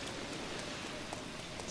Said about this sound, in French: Le problème, c'est qu'il y a de la pluie.